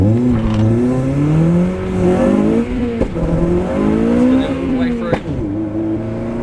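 A Honda Civic Type R accelerating hard from a launch with traction control on, its engine note climbing steadily through the revs, loud and close, with a brief dip around a shift and a voice talking over it.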